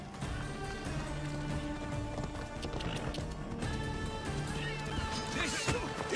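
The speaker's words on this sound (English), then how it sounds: "Come on, horse." Horse hooves clip-clopping at a gallop in the video game Assassin's Creed Odyssey, a steady rhythm under layered game music and a voice, with a brief whinny-like cry near the end.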